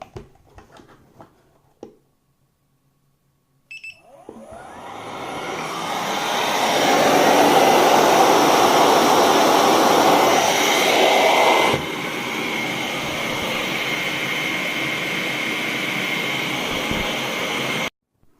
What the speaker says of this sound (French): le système d'aspiration va se mettre en route